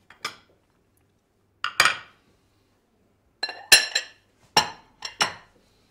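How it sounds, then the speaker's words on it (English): Dishes clinking as a plate is taken out, several sharp glassy chinks in separate clusters with quiet gaps between, close and clear. "Now I'm going to get a plate."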